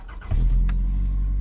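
An old car engine with 230,000 miles on it cranks briefly and catches, quickly settling into a low, throaty idle right up close.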